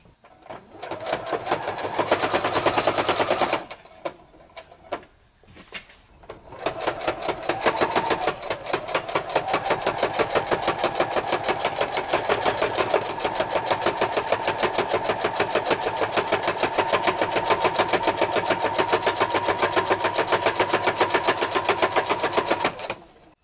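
Sewing machine running a zigzag stitch in a steady, fast mechanical chatter, close and continuous, with a brief pause near the start before it resumes for a long even run.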